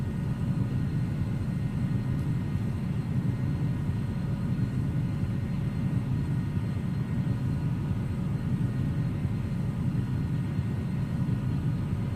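Steady cockpit drone of a Challenger 300 business jet cruising near Mach 0.8 in a flight simulator, a constant low rumble with faint tonal whine, unchanging and alone.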